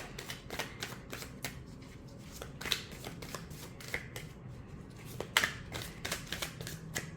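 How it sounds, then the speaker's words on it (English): Tarot cards are shuffled by hand in a quick series of crisp riffling snaps and soft slaps, close and fairly quiet, with irregular bursts and no talking. "you can also do side or overhand shuffling"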